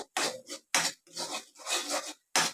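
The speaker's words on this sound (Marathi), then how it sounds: "व्यवस्थित सर्व मसाले आता मिक्स करून घेऊया" Spices being stirred and mixed in a cooking pan for Punjabi-style rajma, a rhythmic series of about six scraping, rasping strokes of a spoon against the metal with brief silences between them.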